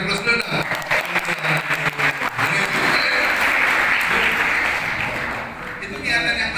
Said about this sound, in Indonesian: Boleh kita berikan aplaus dulu.